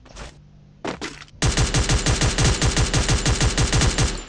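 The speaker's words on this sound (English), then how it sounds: "He's shooting me." Gunfire in the mobile battle royale game Garena Free Fire: a couple of short shots, then a loud, rapid automatic burst of evenly spaced rounds that runs to the end.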